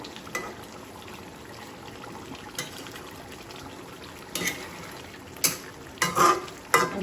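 Fish curry cooks in a pan under a soft, steady simmer, with several short bursts of scraping and stirring near the end as the spoon works through it.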